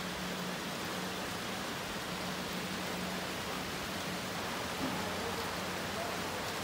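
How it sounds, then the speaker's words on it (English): Torrential rain pours down in a steady, heavy hiss that stays constant and even throughout, with a faint low hum underneath and no voices. "right now I would be stuck in torrential rain"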